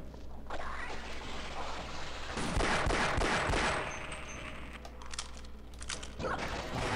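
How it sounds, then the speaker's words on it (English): Pistol shots fired in the video game Half-Life, a dense run of sharp cracks with a busy burst in the middle and scattered shots after, all loud against game background noise. "I could just shoot them with my pistola"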